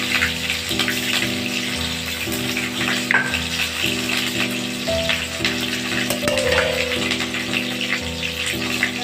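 Bay leaf and chopped onion fry in hot oil for a fish and eggplant bati chorchori, giving a continuous close sizzle over a steady low mechanical hum, with occasional faint clinks.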